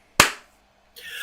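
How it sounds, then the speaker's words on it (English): A single sharp hand clap, loud and close, marking a recording restart on a radio show, followed by a short silence and then the start of a voice. "Todd, clap us back in."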